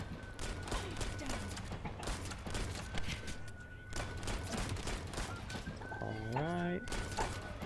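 Rapid bursts of gunfire from a gun in the video game The First Descendant, dense and continuous throughout with a few louder volleys, while someone talks over it.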